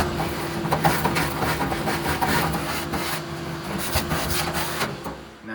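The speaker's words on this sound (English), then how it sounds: "Now we're gonna go ahead and grab the vacuum and get all this lint and everything nice and vacuumed and cleaned." A vacuum runs with a steady hum while it sucks lint from inside a Samsung dryer, with scraping and rubbing noises from the nozzle against the dryer interior.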